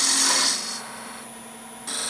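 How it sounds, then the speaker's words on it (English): A P&N 1/2-inch spindle gouge cuts a spinning wood spindle on a lathe, giving a continuous hissing, rasping shear. It is loud up close, eases for a moment mid-cut, then surges again, with no talking. "This is a 1/2-inch spindle gouge, a P&N 1/2-inch spindle gouge."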